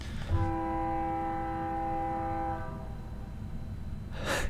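Train horn blaring in a long sustained chord over the rumble of a passing train, heard playing back from a video, loud and continuous before the horn cuts off.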